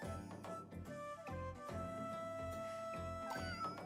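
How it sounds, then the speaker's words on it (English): A cat's meow sounds during a game session, partly buried under dense game music and effects that play loudly throughout. "I heard a cat meow"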